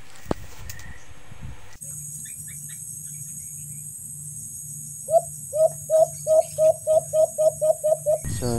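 A bird chirps in a forest, sending out a run of about ten short, evenly spaced calls that come close and loud over a steady background hum after a quiet stretch.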